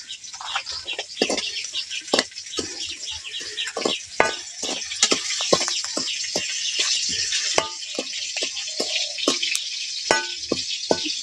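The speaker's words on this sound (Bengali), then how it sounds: "এবার আমি আবার এর মধ্যে অল্প করে চিপ দিয়ে দিচ্ছি" Raw chips are tipped into hot salt and stirred to fry without oil, a dense, close rattle of crisp scraping and ticking with a steady sizzling hiss underneath.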